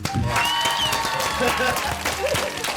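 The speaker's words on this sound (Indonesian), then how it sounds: "Tepuk tangan dulu untuk kita semua." Applause from a podcast audience at the close of a show, dense steady clapping throughout with some voices talking over it.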